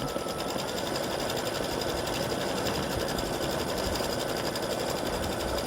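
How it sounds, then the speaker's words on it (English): An embroidery sewing machine runs steadily while stitching a spider web design, a dense, even mechanical whir and needle chatter that holds at constant loudness throughout, close and alone. "I think you can see that it's actually stitching a spider web design"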